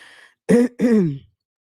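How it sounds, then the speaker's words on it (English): A single throat clearing, two short harsh bursts close together, loud and near, followed by silence. "I've been trying to clear my throat ever since."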